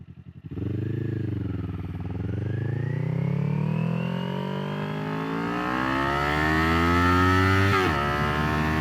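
A 2021 Kawasaki Ninja 400 accelerates hard in first gear to around 45 mph, its engine note climbing steadily in pitch from a low start to a high rev before a brief dip, loud and close throughout.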